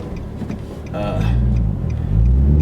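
From inside a Nissan 350Z or 370Z fitted with an Invidia Gemini cat-back exhaust and Berk Tech high-flow cats, the engine rumbles low and swells into a rev, with someone talking over it.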